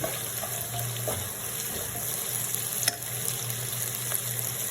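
Dried red chillies, broken in half, frying in hot oil in a pan, giving a steady soft sizzle with light stirring clatter throughout and no talking.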